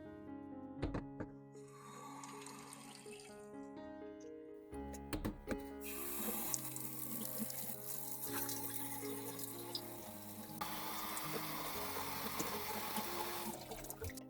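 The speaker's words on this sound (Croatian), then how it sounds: "Sada u meso i povrće dodamo hladnu vodu." Cold water is poured into a pot over beef and root vegetables for homemade beef soup, a steady splashing trickle with changing pitch as the pot fills, alongside background music and no talking.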